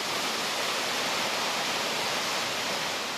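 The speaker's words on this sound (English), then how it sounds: "to go down and watch the massive amount of water going through" Massive volume of Arctic meltwater rushing past in a dense, steady roar, loud and unbroken with no voices.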